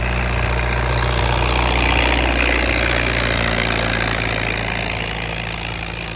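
A Fiat 640 tractor with straight exhaust pipes idling nearby, a loud, steady low diesel rumble with an even throb that holds unchanged throughout.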